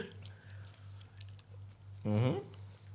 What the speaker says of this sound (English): Make sure you chew it a lot before you swallow, yeah?